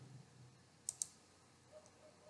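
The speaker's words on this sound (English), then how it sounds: "right click here" Right-click of a computer mouse, two quick crisp clicks close together, near and faint against a quiet room hum.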